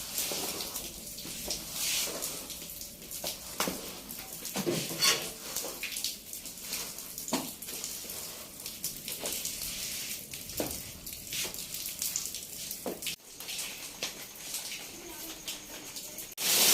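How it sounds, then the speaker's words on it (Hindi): Steady, hissing downpour of heavy storm rain in a village, fairly faint and continuous, with scattered drips and splashes. "ये देखें जी शदीद बारिश है इस वक्त"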